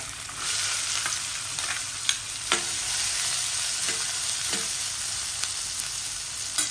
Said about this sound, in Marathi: कांदा जरा गुलाबी होईपर्यंत भाजायचा आहे